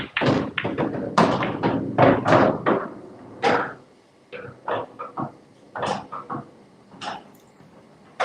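A nine-ball pool break in a tournament match sends a burst of sharp clacks as the balls collide, followed by scattered knocks and thuds while the balls roll and rebound around the table.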